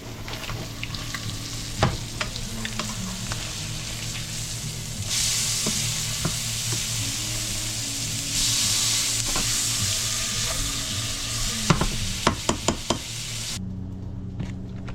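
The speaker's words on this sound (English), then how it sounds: "It doesn't take long to bronze or blacken small fillets of catfish like that." Catfish fillets frying in a pan of butter give a steady, close hiss and sizzle that rises and falls, broken by sharp clacks of a utensil against the pan, with no voices.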